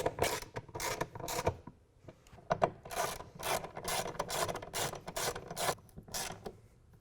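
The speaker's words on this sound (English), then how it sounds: "To tighten these bolts back down, we're going to use a ratchet rather than the impact driver so we don't over torque these" Hand ratchet tightening the mounting bolts of a tri-fold tonneau cover on a Toyota Tacoma pickup bed: repeated bursts of close, rasping clicks, in quick rhythmic runs with brief pauses between strokes.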